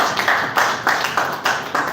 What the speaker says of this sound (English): So please, a better round of applause for them.